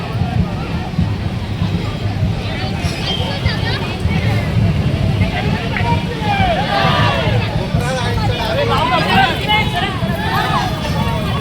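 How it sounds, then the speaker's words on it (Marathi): A dense crowd packs a village fair procession for the Salpadevi jatra festival, a steady close hubbub of many voices with people moving and running through the throng. "इथे खूप गर्दी झालेली आहे पूर्ण आपल्याच लोकांनी भरलेलं आहे"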